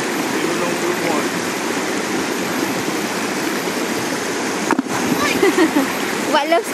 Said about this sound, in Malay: yang air terjun tu